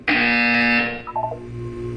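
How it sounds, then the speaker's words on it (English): A loud electronic buzzer from the Portal 2 video game blares steadily for under a second, then cuts off into softer tonal blips and a low hum. "You will hear a buzzer."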